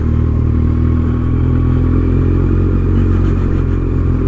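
A supercharged 370hp Kawasaki ZZR1400 motorcycle engine runs loud and steady, a close, constant, heavy drone with a rough pulsing texture and no voices.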